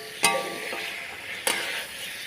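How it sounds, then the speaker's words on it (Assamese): Fish frying in spice paste in a pan, a steady soft sizzle with two sharp clinks of a utensil against the pan. "তাৰপিছত মই মছলাখিনিত অকণ মাছখিনি ভাজি ল'ম।"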